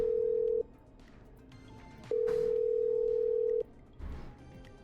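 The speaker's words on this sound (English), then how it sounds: "Okay, I'm dialing." Telephone tones in the Killer Frequency video game: a steady tone sounds, stops, then sounds again for about a second and a half, with faint background noise between.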